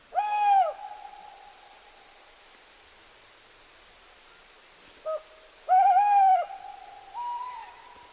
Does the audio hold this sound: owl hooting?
yes